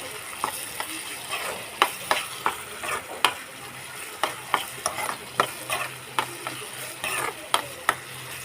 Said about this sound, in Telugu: చూడండి బాగా మగ్గుతున్నాయి ఉల్లిపాయలు